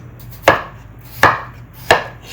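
Potatoes being cut on a board for turkey afritada in a Filipino home kitchen; three crisp, evenly spaced knife chops land about every three-quarters of a second, close and clear over a low background hum.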